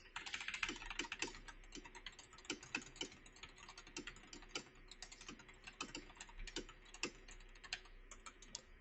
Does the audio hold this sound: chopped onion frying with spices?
no